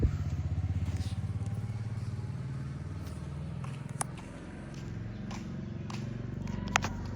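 A Royal Enfield Bullet motorcycle engine thumps steadily up close during a beginner riding lesson, a low continuous throb with slight swells as the throttle is opened.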